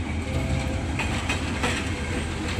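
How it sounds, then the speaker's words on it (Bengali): A train pulls into Tejgaon station in Dhaka with a continuous rolling roar. Several distinct wheel clacks cut through the rumble over a few seconds, with no voices. "দেখতে দেখতে একটি ট্রেন চলে আসলো।"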